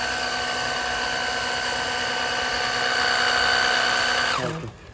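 Cordless battery-powered vehicle washing gun whirring steadily at close range with a strong tonal motor whine, alone without talk, then spinning down and cutting off near the end.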